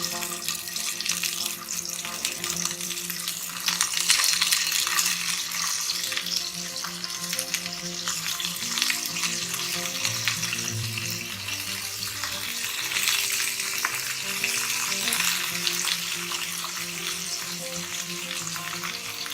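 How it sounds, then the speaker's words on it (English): Fish frying in hot coconut oil for a Kerala fish molee, with a steady bright sizzle and crackling spatter that flares louder at moments, running continuously for about twenty seconds without talk. "Stay a little away from the pan because it's got a little bit of water in it, so it's going to splatter everywhere."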